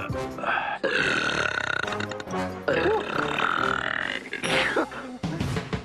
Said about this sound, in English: I think I'm going to burp.